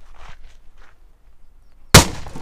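A homemade bomb goes off in an outdoor yard: one sudden loud blast near the end, preceded by quiet rustling and footstep-like sounds.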